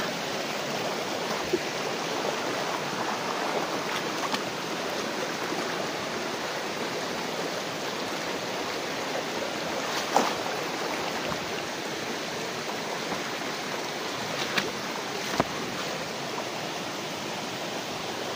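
A stream of flowing water runs in a steady, dense outdoor rush, close and even throughout, with a few faint knocks and rustles and no talking.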